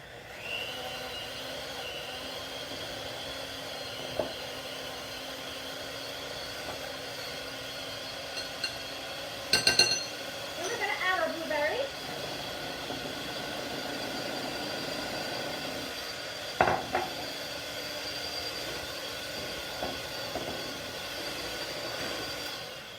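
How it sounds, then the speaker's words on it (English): An electric mixer beats blueberry icebox pie filling on medium speed, making a steady, faint whirring drone throughout with a few brief clinks and scrapes. "we're just going to beat this on medium"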